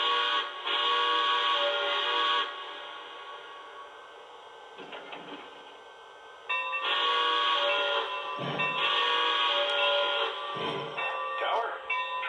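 Lionel Legacy Santa Fe 4-8-4 Northern model steam locomotive pulling reefers and passenger cars, with loud bursts of sampled whistle and chuffing sound separated by a quieter gap.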